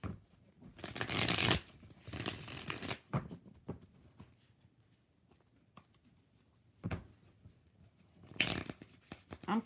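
Tarot cards shuffled by hand in several bursts, two long riffling runs at the start and another near the end, with softer taps and card handling in between, close and clear with no talk.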